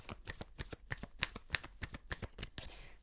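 Tarot cards shuffled by hand at close range, a steady run of quick crisp riffling bursts with no talking.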